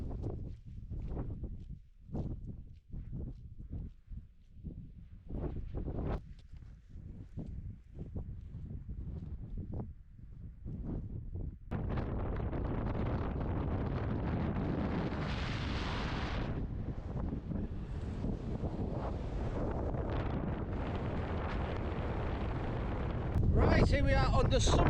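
Strong wind buffets the microphone on the summit of High Pen in the North Ennerdale fells, first as gusty bursts and then as a steady loud roar that continues to the end.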